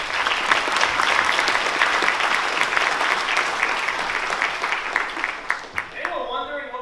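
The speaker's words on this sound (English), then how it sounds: "I want to start off with a great round of applause for" Sustained applause from an audience at a database conference at the UN, dense clapping holding steady for several seconds before tapering off at the end, with a voice coming in over the fading claps.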